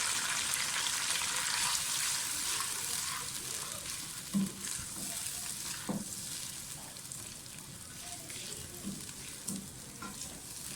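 Onions frying in a pan, a constant bright sizzle with occasional stirring knocks and scrapes, fairly quiet and with no one talking.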